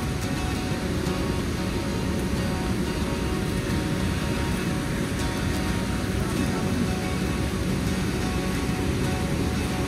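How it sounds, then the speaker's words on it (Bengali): Heavy rain on a trek to the double-decker living root bridge near Cherrapunji, Meghalaya: a dense, unbroken hiss that holds steady and fairly loud from start to finish. "এই বৃষ্টি একটু বড় আছে"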